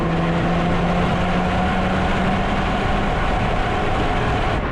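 A 2025 VW Golf GTI Mk8.5 cruising on the road gives a constant loud rush of road and wind noise over a low, steady exhaust drone, with no pauses.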